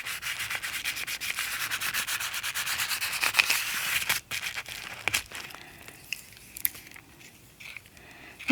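Cheesecloth being trimmed for a shabby chic junk journal: steady close rubbing and scratchy cutting, loud for several seconds, then sparser crisp snips and rustles, with no talking.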